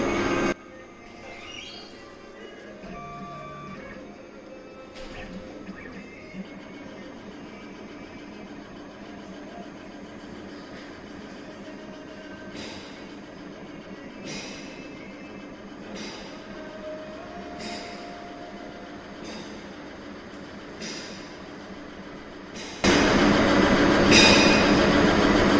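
Laser cutting and marking machine running, a steady mechanical hum with periodic whirring and soft clicking from moving parts, ending in a sudden louder broadband hiss near the end.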